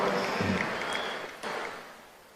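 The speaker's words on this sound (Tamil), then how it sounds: "உற்சாகமா கைத்தட்டல்களை வழங்கின சகோதரிகள் அனைவருக்கும் என்னுடைய நன்றி" A crowd claps steadily, dense and fairly loud, easing off slightly near the end.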